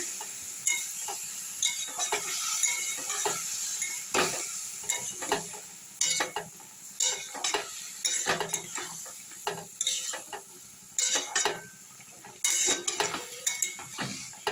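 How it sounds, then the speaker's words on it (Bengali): Spices for sour spinach curry being stirred in a pan with sugar, salt and a little water, producing repeated scraping and clinking strokes over a soft sizzle, close and steady throughout with no talking. "মশলাগুলো দিয়েছি এইভাবে একটু নেড়ে নেবো"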